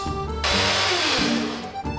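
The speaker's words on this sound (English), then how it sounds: "But we need to grind the cloves first." An electric grinder grinding cloves, a loud steady whirring roar that starts abruptly, runs about a second and a half with a slight pitch shift, then cuts off, heard close with no talk.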